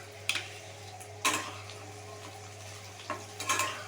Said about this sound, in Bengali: আলুটা দিয়ে ভাজা ভাজা করে নেবো আমি কিন্তু এখন নুন দেব না দিয়ে দিচ্ছি মটরশুঁটি